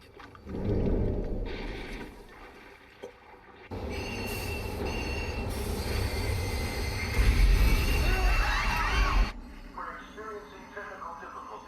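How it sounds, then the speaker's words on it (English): A train pulls into a station platform in the Persona 5 Royal game, wheels squealing and carriages rumbling loudly for several seconds, with a platform announcement voice over it before the noise cuts off. "The inbound train will soon be arriving at platform number 1."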